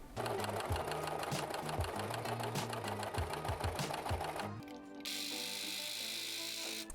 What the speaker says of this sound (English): The minute it started sewing, it broke the thread.